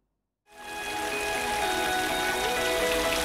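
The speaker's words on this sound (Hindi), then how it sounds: "मुतादिद इलाकों में बूंदाबांदी और मूसलाधार बारिश के बाद हब्स का जोर टूट गया है" Rain in Lahore sets in suddenly after a brief silence and then hisses on steadily as a dense, even patter, close and moderately loud, with no voices.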